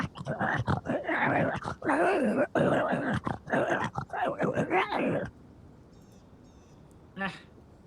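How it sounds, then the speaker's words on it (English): Dogs, coyotes or wolves fighting over meat make dense, close snarling, growling and yelping for about five seconds before it drops to near quiet, apart from one brief later cry. "Just dogs, coyotes, or wolves, or something, fighting over the meat."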